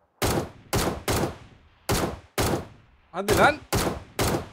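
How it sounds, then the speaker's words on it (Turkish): Gunfire in the mobile battle royale game PUBG Mobile, fired shot by shot: about eight loud, sharp reports at fairly even intervals, close and punchy, with a brief spoken voice mixed in once. "Abi silah tek tek atmak daha zor."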